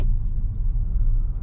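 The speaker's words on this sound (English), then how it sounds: "And you can switch off the engine as well." A learner driver's car engine idling after pulling over and parking on a roadside, a steady low rumble close by, loud and unaccompanied by talk.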